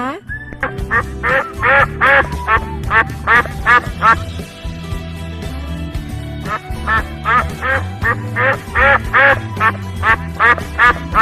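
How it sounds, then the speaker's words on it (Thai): A duck quacks repeatedly and loudly, nasal honking calls in rhythmic runs with a short pause midway before the quacking resumes. "เราลองไปฟังเสียงเป็ดกันดูนะค"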